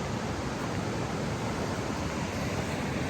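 A river flowing near a ghost town in British Columbia, a continuous broad rushing wash of water heard steadily and fairly loud with no voices.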